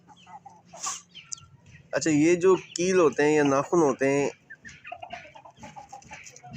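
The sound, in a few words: chicken clucking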